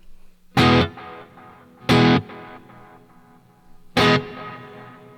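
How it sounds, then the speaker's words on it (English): Three loud, strummed electric guitar chords through an ENYA Inspire's built-in EQ, compression and reverb, each ringing out into a long, wet reverb tail with a compressed, sustained tone. "It's got EQ, compression, and reverb all in one thing here."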